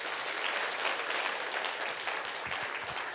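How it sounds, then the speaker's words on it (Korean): A church congregation gives a steady round of applause, dense and continuous for a few seconds, with no voices standing out. "우리 집사님 격려의 박수 한번 하실까요?"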